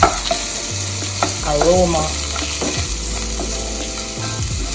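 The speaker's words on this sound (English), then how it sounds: "I'm gonna saute the vegetables first before we put in, and then afterwards now we'll just put in the vinegar." Carrots and mixed vegetables sauté in a pan on a stovetop over low heat for an escovitch fish dish, with a steady sizzle broken by several clear scrapes and stirs of a utensil across the pan. No one speaks.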